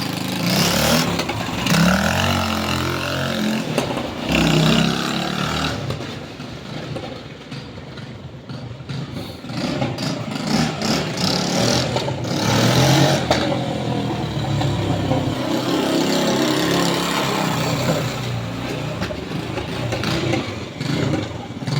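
Homemade IZh Enduro motorcycle engine running on a test ride outdoors, a loud continuous rough drone with rising and falling revs and wind rush throughout, carrying on steadily for over twenty seconds.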